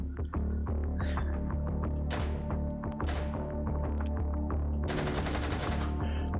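Rapid automatic gunfire with heavy recoil in the VR shooter Hot Dogs, Horseshoes & Hand Grenades, loud continuous close shots with a dense rattling burst near the end, no talking.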